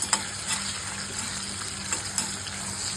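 Potato with turmeric and salt stirred in a pan over a low flame, giving a steady soft frying sizzle with a few brief scraping stir sounds throughout, no talking.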